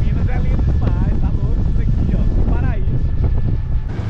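Motorboat cruising on open water, with strong wind buffeting the microphone and a steady low engine and hull rumble, while people talk over the noise.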